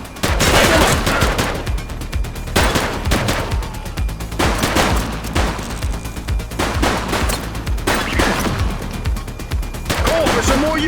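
Gunfight in The Precinct police game, with loud bursts of rapid automatic fire and single shots repeating throughout, close and dense, with shouting voices mixed in.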